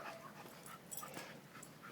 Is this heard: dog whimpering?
yes